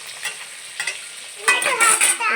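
Fish sizzling in hot oil in a wok, with a steady frying hiss and scattered stirring scrapes that grow louder and busier toward the end.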